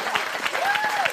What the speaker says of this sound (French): On peut les applaudir, regardez, ils font des signes, bravo.